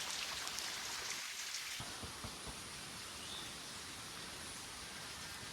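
Steady rain falls through a rainy-season forest near Chiang Mai, with a dense, even hiss of drops pattering on leaves and ground and no voices.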